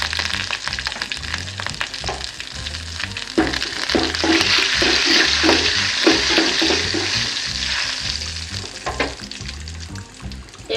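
Dried red chili and curry leaves fry in hot oil for a tindora curry tempering, a loud, close, continuous sizzle with crackling bursts and the scrape of stirring.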